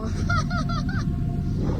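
Geese honk near a ferry at sea bound for Hatsushima Island, a rapid run of four or five nasal honks close together, then stopping, over a steady low engine and wind rumble.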